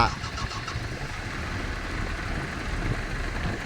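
An old car's engine idles steadily at home, a continuous low rumble with a mid-range hum that holds fairly even throughout, with no talk over it.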